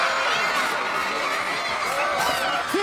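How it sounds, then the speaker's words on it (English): Boxing match crowd: a dense, steady wash of spectator noise and chatter with scattered shouts, continuous and fairly loud throughout. "This crowd's so annoying."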